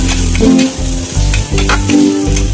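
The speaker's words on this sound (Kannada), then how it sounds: "ಶುಂಠಿ ಬೆಳ್ಳುಳ್ಳಿ ಪೇಸ್ಟ್ ಹಾಕಿ ಸ್ವಲ್ಪ ಫ್ರೈ ಫ್ರೈ ಮಾಡಬೇಕು" Ginger garlic paste sizzles and fries in a pan for a paneer masala, with a steady loud crackle and a few stirring scrapes, close up.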